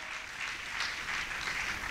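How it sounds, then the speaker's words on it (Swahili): Applause from a church congregation at an evangelism conference in Dodoma, Tanzania, a dense, steady clapping from many hands that carries evenly through the whole stretch with no voices. "tupige makofi kwa ajili ya wapendwa hawa"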